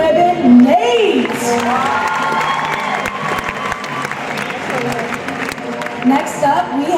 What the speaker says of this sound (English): Another round of applause for our blue ribbon, Nate!